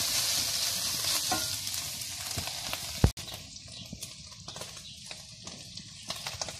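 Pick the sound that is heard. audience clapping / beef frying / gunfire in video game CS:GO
beef frying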